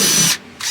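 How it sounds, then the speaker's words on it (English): A power drill runs in reverse, driving through the carpet lining of a VW Caddy headliner: a loud close whine that cuts out briefly, then starts again. "I'm putting the drill in reverse first, because if you don't, it's going to twist all the carpet lining up."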